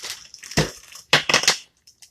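Plastic freezer bag crinkled and crushed while leftover steaks are packed flat, two sharp crackling bursts close up with short quiet gaps.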